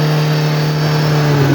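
Diesel engine of a Russian piling machine running at high revs on a building-foundation site, a loud steady drone with a strong low hum that rises slightly at the end.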